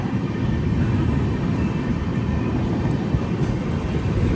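A steady, loud rumble of trains passing through Perambur station in Chennai, a continuous low roar with no distinct breaks, heard close and without talk.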